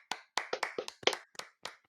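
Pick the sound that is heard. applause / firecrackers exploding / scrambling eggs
applause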